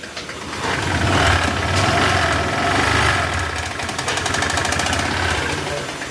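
A Honda Click 125 scooter engine runs steadily with a rough, grinding knock throughout, loud and close, with no pauses.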